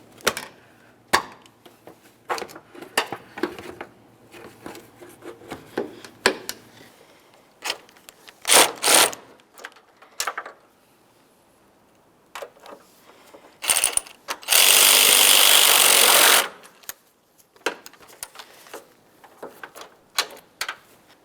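A ratchet clicks in short bursts while 11mm mounting nuts are run onto studs on a lamp assembly. The bursts are scattered between quiet gaps and handling knocks, and a loud hiss of rustling noise comes midway.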